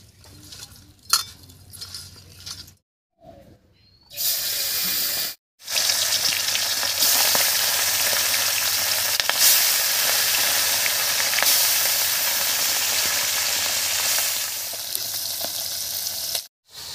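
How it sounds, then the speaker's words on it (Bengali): Small river fish rubbed with turmeric and salt sizzle in hot mustard oil in a wok. A steady, loud, close frying hiss follows a quiet start, with a couple of short breaks and no talking. "এবারে মাছ ভাজার জন্য কড়াইতে দেবো সরষের তেল।"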